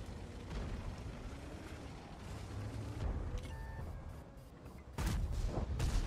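A tank gun fires in World of Tanks, from an Object 780 tank: a single loud, sharp boom near the end cuts through a steady, rumbling battle background.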